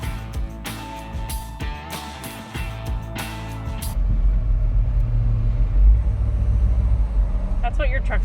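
A Chevrolet K10 truck with a new engine and transmission runs on its first drive, a deep low engine rumble that grows louder and steadier partway through, with some rattles and cabin noise mixed in.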